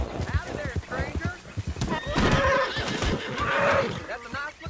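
A horse whinnies and snorts in the Red Dead Redemption 2 game, with clip-clopping hooves throughout and two drawn-out neighs mid-stretch, while a voice talks over it.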